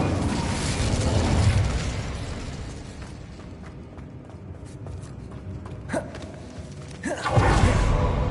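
An Incendio fire spell is cast in a Harry Potter video game, a loud burst and whoosh of flame, followed by quieter rumble and a second strong fiery blast at the end.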